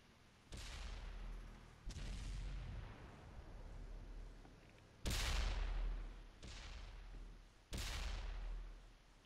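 Tank cannon shots in a World of Tanks-style battle, an AMX 50-100 shelling a Tiger: about six heavy booming blasts at irregular intervals, each with a sharp crack and a long rumbling decay.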